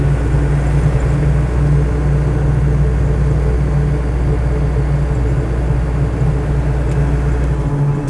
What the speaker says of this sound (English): just a fair amount of noise from the whine from the tyres